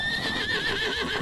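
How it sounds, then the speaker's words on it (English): A horse at the Royal Norfolk Show 2024 agricultural show gives a high, wavering whinny. The neigh is close and fairly loud, trembling steadily for about a second over a faint rustle of background noise, with no talking. "riding horses"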